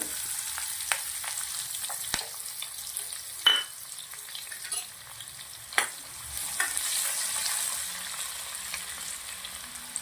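Ginger, onion and garlic frying in hot oil, a steady close sizzle with occasional stirring scrapes and clinks of the spoon, no voices.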